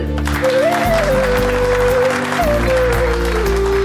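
Applause in a Tamil television drama scene, steady clapping filling the clip under a sustained musical tone, loud and close throughout.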